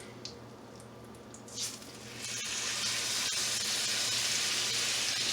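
A rib eye steak hits hot browned butter and sunflower oil, and a loud, steady, close sizzle swells up and holds without a break after a few quiet clicks and a soft thud.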